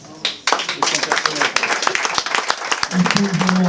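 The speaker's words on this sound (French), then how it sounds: "mérite encore une fois vos applaudissements nourris" Dense crowd applause with scattered sharp claps and a murmur of voices underneath, sustained and fairly loud throughout.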